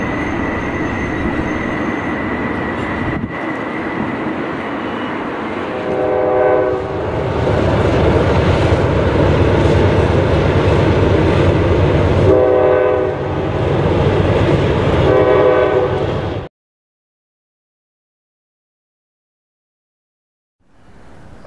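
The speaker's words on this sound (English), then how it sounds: "Three trains going around the curve at once." Three freight trains round a curve at Cresson, Pennsylvania, a loud continuous rumble of wheels and rail cars with repeated horn blasts and squealing, ending abruptly in silence.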